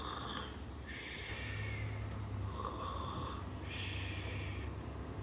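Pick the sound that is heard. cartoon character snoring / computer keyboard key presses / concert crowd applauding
cartoon character snoring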